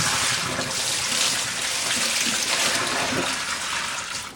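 Dirty cleaning water dumped out and rinsed, a loud rushing pour of liquid that splashes for a few seconds before tapering off.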